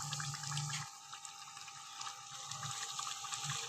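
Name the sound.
water poured into pan of taro and chicken curry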